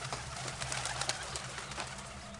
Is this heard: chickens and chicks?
no